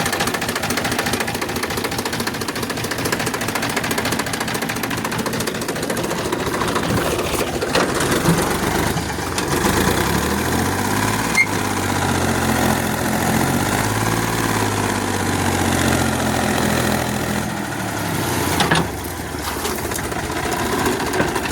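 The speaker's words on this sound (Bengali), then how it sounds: "গাড়িটা কেমন জানি আওয়াজ করতেছে।" Car engine idling with an odd, irregular noise, a dense continuous rumble and rattle close by that holds steady at moderate loudness throughout, with no clear talk.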